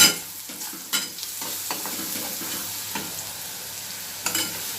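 Onions with red chili powder sizzle in a pan as a spatula stirs them, with a few louder scraping strokes over a steady close frying hiss, no talk.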